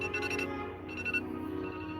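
A mobile phone ringtone plays a repeating electronic melody, moderately loud and close.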